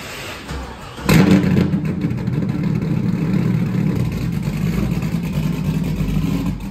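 A Chevrolet Corvette's engine starts up loudly and settles into a deep, continuous rumbling drone as the car rolls out of a workshop, close and steady throughout.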